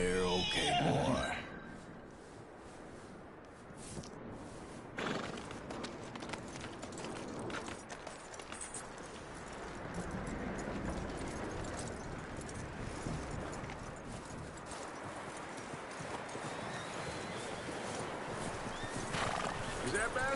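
Horse in Red Dead Redemption 2 whinnies loudly near the start, then hooves clip-clop steadily through the rest under a game backdrop with occasional voices.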